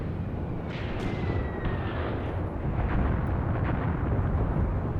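Artillery cannons boom in a WWII Eastern Front strategy video game, a dense rumbling barrage of blasts at a moderate distance with no voices.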